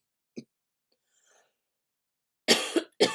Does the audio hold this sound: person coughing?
yes